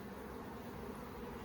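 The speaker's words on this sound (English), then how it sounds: "We got a lot of bees" A continuous low drone of many honeybees buzzing around an open, crowded hive box during an inspection, steady and dense without pauses, close by and fairly quiet.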